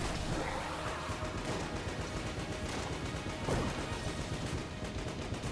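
Dense explosions and gunfire from the video game Enter the Gungeon, a rapid barrage of crashes and shots that overlap continuously with one louder burst midway, loud and busy throughout.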